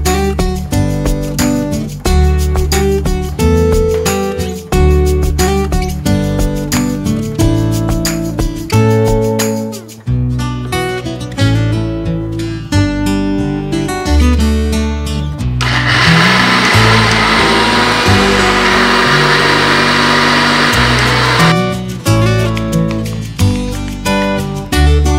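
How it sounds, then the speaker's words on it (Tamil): Mixer grinder jar grinding green gram flour with grated jaggery, a loud continuous motor whine with rattling and pitch shifts as the load churns, briefly pausing and restarting, with no talk. "இதை திரும்பவும் மிக்ஸி ஜாரில் போட்டு அரைச்சி எடுத்துக்கலாம்"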